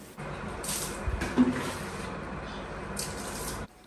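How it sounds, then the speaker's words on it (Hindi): Vinegar-mixed water poured over a bathroom tile floor for cleaning: a steady splashing gush of water lasting a few seconds, with a small splatter partway through, then it stops abruptly. "अब इस सिरके मिले पानी को हमने पूरे फ्लोर पर अच्छी तरह से डाल देना है।"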